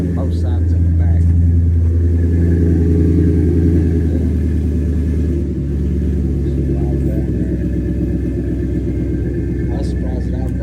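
Ford 7.3 diesel truck idling after a cold start on a morning around 15 degrees, running through an MPI exhaust, with a deep, loud, steady rumble and rattle throughout.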